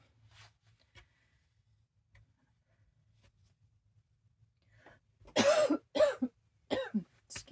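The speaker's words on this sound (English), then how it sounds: "Still got a pesky cough from when I had COVID that keeps bugging me" Several sharp, raspy coughs in a quick cluster from a nearby woman with a lingering post-COVID cough, loud against a quiet room with faint ticks and rustles beforehand while she sits stitching wall art.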